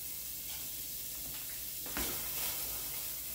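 Diced onions and soy chorizo going into a hot pan, giving a faint, steady sizzle with a soft burst of hiss as food lands, quiet and continuous with no talking.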